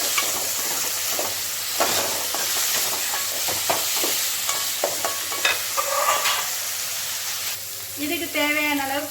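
Grated coconut toasting in a pan for a Thai Poosam festival dish, with steady sizzling and hiss as it is stirred, scattered scraping clicks throughout and a brief voice near the end.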